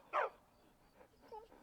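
A dog in the Skyrim VR video game gives one sharp, close bark, followed by a couple of much softer, muffled yelps.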